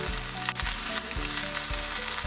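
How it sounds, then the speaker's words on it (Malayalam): Ginger garlic paste sizzles and fries steadily in hot oil in a pan, close and clear with a constant crackle, no voices. "അതിൽ ഞാനിപ്പോൾ 1 ടീസ്പൂണ് ജിഞ്ചർ ഗാർലിക് പേസ്റ്റാണ് ഇടുന്നത്."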